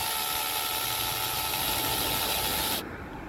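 A KIMO 12V cordless adjustable-clutch drill runs steadily on its clutch setting, a continuous close motor whine with a hissy edge that holds at one level and then drops abruptly near the end as the speed changes.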